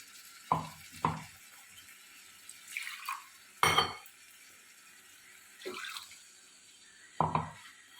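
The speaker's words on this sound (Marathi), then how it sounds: "आता थोडं पाणी घालत आहे मी" Water goes into a hot pan of dried shrimp curry, producing short, separate bursts of splashing and sizzling along with stirring scrapes, fairly quiet and spaced a second or two apart.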